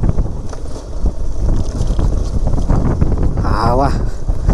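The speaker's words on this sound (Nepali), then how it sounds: "हावा निकै गजबले चल्दो रहेछ" Strong wind gusts across an open spot near a small market, buffeting the microphone with a loud, continuous low rumble that rises and falls.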